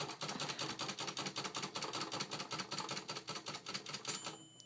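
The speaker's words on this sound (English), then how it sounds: "It is a Royal portable typewriter." Quick, even keystrokes clack on a Royal portable typewriter, close and crisp in a steady rhythm, with a bright ding near the end.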